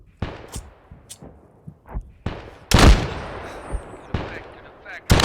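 Artillery impacts and gunfire in the ARMA 3 military game, made up of scattered sharp shots and several heavy booming blasts at irregular intervals, with a large rumbling explosion near the middle.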